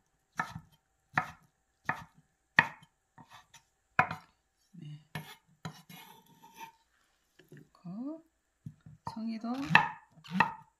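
A knife slicing pine mushrooms on a cutting board gives a series of crisp, close chops at an uneven pace, roughly a dozen strikes, followed by a voice speaking near the end.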